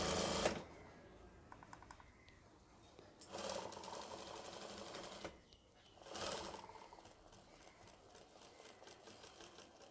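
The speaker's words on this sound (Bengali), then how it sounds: "দেখেন এখানে আমি এতটুকু ভিতর দিয়ে পুরো মাপ সেলাই করে দেব।" A sewing machine stitches the neckline of a lehenga blouse, whirring in three quiet bursts separated by short pauses.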